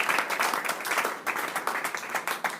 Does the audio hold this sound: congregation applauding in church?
yes